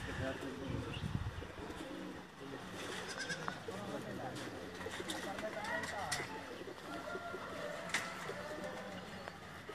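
Pigeons on a rooftop coo and murmur in a dense, continuous layer, some calls near and others farther off, with people talking over them throughout.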